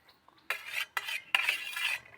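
A metal utensil scrapes and stirs oil in a pan while eggs are being fried, in three distinct bursts of clattering with short pauses between them, close and fairly loud.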